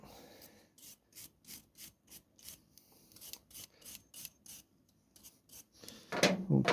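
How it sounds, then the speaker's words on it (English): A small brass brush scrubs residue off a part during a Kawasaki ZRX 1200 motorcycle engine rebuild, a rapid run of short, rhythmic scratchy strokes, close and fairly quiet, ending in a louder burst of rubbing. "just clean that off there with a wee bar brush or a wee brass brush. Clean any residue off that."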